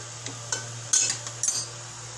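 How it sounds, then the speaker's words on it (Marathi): Steamed capsicum and mushrooms are sautéed in a pan for a Malvani-style mushroom dish, with a few spatula clinks and scrapes over a low background hum and a faint sizzle. "आता मी ते चांगलं परतून घेते"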